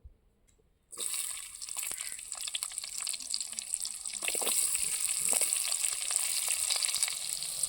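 Onion pieces drop into hot oil reused in a pan for a prawn curry and burst into a loud, steady sizzle after a second of near silence, crackling on evenly and close.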